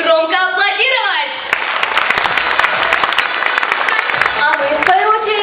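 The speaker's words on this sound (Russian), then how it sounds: "Только пообещайте громко аплодировать." Loud festival audience applause fills the hall in a dense, steady wash of clapping, with music and a voice heard at the start and end.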